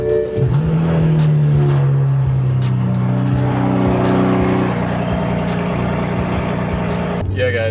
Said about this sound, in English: my car sound like this on a cold start,